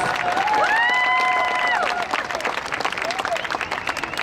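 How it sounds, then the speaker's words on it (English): Audience applause at a show jumping championship rolls on continuously while a loudspeaker voice and a tonal chime ring out over it. "Give a round of applause."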